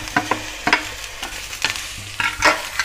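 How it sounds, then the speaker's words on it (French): Carrots being lightly stir-fried in a pan for a Korean spicy pork jeyuk bokkeum, with close sizzling and several sharp scrapes and clatters of stirring at an uneven rhythm, no voices. "Les carottes aussi, on fait sauter légèrement."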